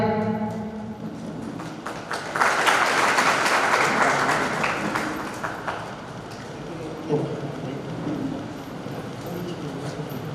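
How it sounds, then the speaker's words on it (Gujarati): Audience applause at a Buddha Jayanti festival event in Sitana, a dense crowd clapping that swells partway through and carries on, with a voice talking over it in places. "આવો તાળીઓથી વધાવીએ આ ક્ષણને."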